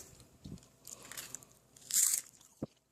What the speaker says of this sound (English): Even the tomatoes have crunch.